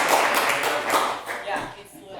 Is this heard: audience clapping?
yes